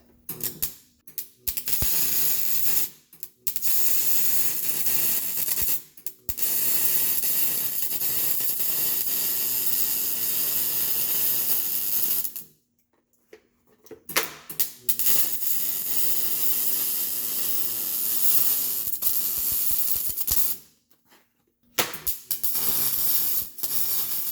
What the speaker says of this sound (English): now you can go ahead and weld it all up